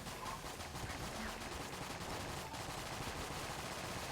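AK-47 gunfire in Enter the Gungeon, a fast rapid-fire rattle of shots running steadily throughout, moderately quiet against busy game noise.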